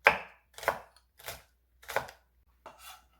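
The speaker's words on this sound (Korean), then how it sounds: "청양고추 작은 거 5개 송송송송 썰어주세요." Knife chopping small green cheongyang chili peppers on a board for bean leaf kimchi seasoning: five distinct, evenly spaced chops, close and crisp, with no talking.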